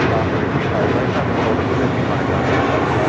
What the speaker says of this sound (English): That is Spirit 890 departing to Louisville on an A321